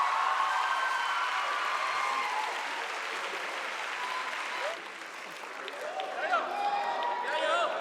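A studio audience at a talk show cheers and applauds in a sustained, roaring wash of clapping that dips briefly and then swells again, with voices mixed into the crowd.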